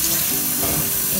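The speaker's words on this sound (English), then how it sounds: "I'm gonna soak the rice into cold water" Cold water runs steadily onto two cups of rice set to soak for Senegalese chicken yassa, a continuous close rushing splash with no breaks, and no one talks over it.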